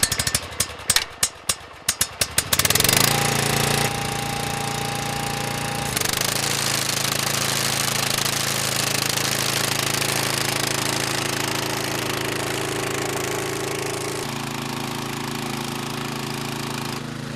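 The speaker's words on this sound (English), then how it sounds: "now we've seen the sickle bar in action" A sickle bar mower cutting grassland at Powis Castle starts with rapid sputtering bursts, then settles into a loud steady mechanical chatter and engine drone that shifts tone as it works.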